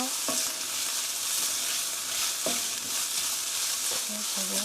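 Sugar is stirred into mapo tofu in a hot pan, a continuous sizzle under a few distinct spoon scrapes and taps against the pan, spaced a second or two apart.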